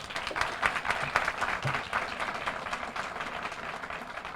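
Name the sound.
applause for graduates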